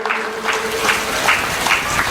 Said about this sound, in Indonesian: Tepuk tangan untuk beliau beserta ibu.